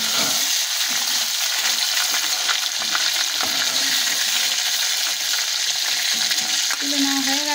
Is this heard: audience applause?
no